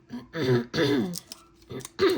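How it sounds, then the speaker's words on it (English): Several harsh, throaty throat-clearing rasps in quick succession, close and fairly loud, separated by short pauses. "I hope I'm not just clearing my throat the entire video"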